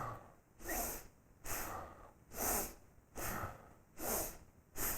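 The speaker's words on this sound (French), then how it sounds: "C'est ce qu'on appelle Bhastrika, la respiration du soufflet." Bhastrika bellows breathing in a yoga session: forceful nasal breaths pump in a steady rhythm, about one strong whooshing stroke every 0.8 seconds. Each breath is close and loud, with quieter gaps between the strokes.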